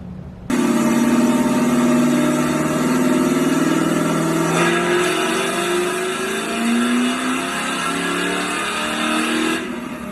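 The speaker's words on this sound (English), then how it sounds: "It's actually a Mustang 66 with a 347, and here it is on the dyno." A 1966 Mustang with a 347 engine roars on a dyno, holding a loud, steady high rev that climbs and shifts pitch before dropping off abruptly at the end.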